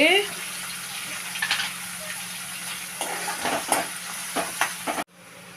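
Onions, tomato and carrot frying in a pan for egg noodles, a continuous close sizzle with spatula stirring scrapes and clinks, briefly overlapped by a voice at the start, then cutting off abruptly near the end.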